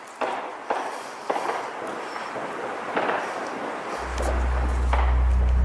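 Several sharp gunshot-like cracks ring out in an abandoned building in Cleveland, spaced a second or so apart and echoing, followed by a steady low rumble that builds toward the end.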